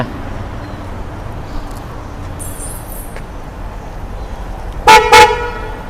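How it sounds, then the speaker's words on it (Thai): After several seconds of quiet background hum, an aftermarket horn on a Toyota Fortuner 2.4 V 2WD blares twice in quick succession with a bright, brassy, musical tone. "ลองฟังเสียงแตรสักนิดนึงเนาะ"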